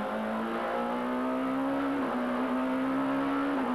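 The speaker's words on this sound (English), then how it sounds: "Heading across the start-finish line opposite the pits to begin the lap and building up to maximum speed in sixth gear." Onboard a touring race car lapping the Le Vigeon circuit and building to top speed in sixth gear, the engine holds a loud, steady high drone with brief dips at the gear changes, close to the microphone and with no talking.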